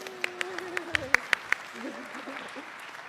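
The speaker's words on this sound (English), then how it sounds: "I don't have time for applause." About eight sharp, evenly spaced claps ring out close by in quick succession while a voice talks, then the clapping stops and only the talking continues.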